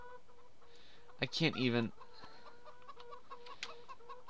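Chickens cluck in a farmyard in the Farming Simulator 2015 video game, soft and fairly distant, with a brief louder burst midway as a person speaks briefly.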